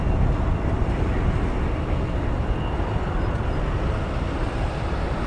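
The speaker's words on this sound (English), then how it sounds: "I just want to hear the planes." Airplanes at O'Hare International Airport in Chicago produce a continuous, loud, deep roar of jet engine noise, steady and unbroken throughout with no talking.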